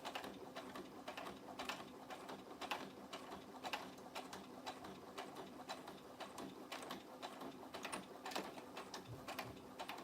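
Sewing machine stitching continuously, its rapid rhythmic needle clatter running steadily and fairly close throughout, with repeated mechanical ticks and a constant motor whir, no voice.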